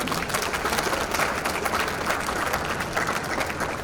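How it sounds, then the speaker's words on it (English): A live audience applauds contestants at a health tech competition, a dense, steady wash of clapping that carries evenly throughout without a break. "Let's give them one big round of applause."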